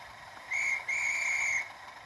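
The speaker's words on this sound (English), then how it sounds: "Do the guard's whistle." Guard's whistle from a DCC sound Class 37 model locomotive on a garden railway: two shrill whistle blasts, a short one then a longer one, clear against quiet outdoor background.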